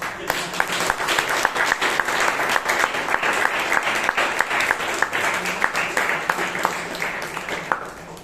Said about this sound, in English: very good big round of applause.